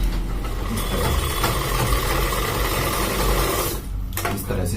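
A sewing machine runs a stitch line along the drawstring casing of a men's underwear waistband: a dense, steady mechanical whir close by that cuts off abruptly near the end, with no talking.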